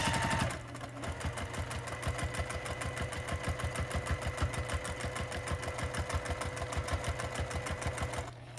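A sewing machine stitches a small quilted Christmas stocking ornament, running at a steady, even, rapid rhythm of needle strokes that starts after a brief pause and continues without interruption, with no speech.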